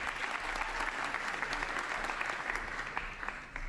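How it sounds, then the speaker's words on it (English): Applause and cheering from an audience in a parliament chamber, a steady, somewhat distant wash of clapping that holds evenly and fades slightly at the end. "Well, that was a big cheer."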